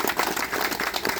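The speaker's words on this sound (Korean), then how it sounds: "박수 한번 부탁드리겠습니다." Mourners at a rainy outdoor memorial ceremony for the 78th anniversary of independence activist Yeo Woon-hyung's death give a short burst of applause. The clapping is dense and continuous, fairly close, and lasts only about a second.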